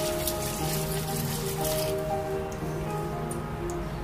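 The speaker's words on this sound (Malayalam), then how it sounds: "ഇപ്പൊ ഇത്ര ഇട്ടതിന് ശേഷം നമുക്ക് ഒരു കപ്പ് വെള്ളം ഒഴിച്ചു കൊടുക്കാം" A cup of water goes into a mixer jar over guava, apple, ginger and lemon for a smoothie, making a close splashing, dripping trickle that runs steadily and then tapers off.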